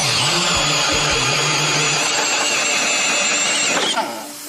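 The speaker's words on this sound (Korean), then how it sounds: "지금서부터 보조 핸들을 장착하고 얼음 천공에 들어가 보도록 하겠습니다" A Makita 40V cordless drill with 60Nm of torque and an auxiliary handle bores through ice more than 20cm thick. Its loud, close, high-pitched motor whine holds steady, then winds down near the end.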